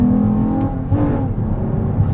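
A Toyota Camry TRD with a throttle body spacer installed revs up loudly and close by. The engine note rises and swells in a quick burst of acceleration, then stays loud and steady.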